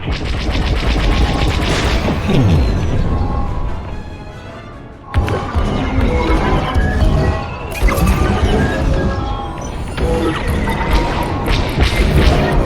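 Pillars being destroyed in Star Wars Squadrons while flying a Y-Wing: loud crashing impacts and rumbling debris, broken by one sudden sharp blast and a short lull, then more heavy smashing and rattling fire.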